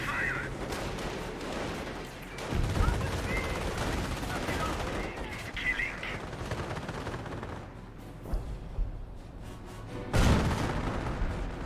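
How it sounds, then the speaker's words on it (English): Artillery and gunfire in the World War II strategy game Company of Heroes: continuous rumbling battle noise with repeated heavy booms and bursts, including a loud blast near the end, under steady commentary talk. "Artillery used perhaps wantonly here, or wantingly."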